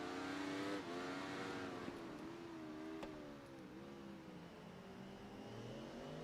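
A racing motorcycle from the Ride 3 video game, an Aprilia out on a track, holds a sustained high engine whine that rises and dips in pitch as the bike accelerates and shifts, steady and continuous with no voices.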